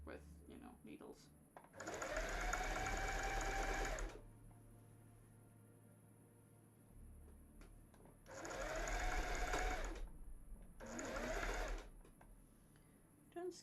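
A sewing machine stitches jersey fabric in a cosplay workshop, running in three bursts of steady, close whirring hum with quiet gaps between them and a voice talking during the pauses.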